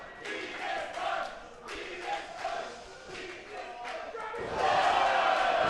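Toronto independent wrestling show crowd chanting together in rhythmic bursts, loud and fairly near, swelling into a louder roar near the end.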